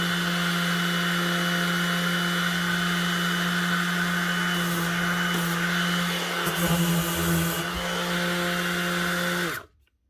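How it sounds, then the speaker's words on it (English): A repaired DeWalt DCW210 18V cordless random orbit sander runs with a loud, steady, close motor whine and hum, a brief rattle near the end before it switches off abruptly. "One Dewalt sander up and running again, the DCW210."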